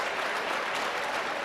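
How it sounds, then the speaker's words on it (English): Steady, dense applause from a conference general-session audience for a panel of five speakers, even and sustained from start to finish with no voices. "Let's give another great round of applause for our 5 fantastic speakers today."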